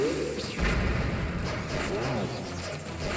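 A bomb explodes with a sudden deep boom and rumble in The Legend of Zelda: A Link Between Worlds during a water boss battle, followed by busy game effects and a rising whoosh.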